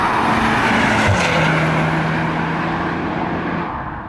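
A VW MK8 Golf R drives hard through bends, its engine a loud, steady drone heard from inside the car, with the pitch easing slightly and the sound fading toward the end; no one speaks.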